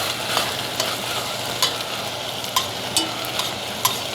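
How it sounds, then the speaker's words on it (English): Cooked peppers and meat are stirred in a hot pan while their liquid deglazes it, with a constant soft sizzle broken by regular scraping taps of the utensil, close and clear, and no talk. "I'm gonna go ahead and give this all a stir, and I'm gonna kind of use the liquid from the peppers to start to deglaze the pan a little bit."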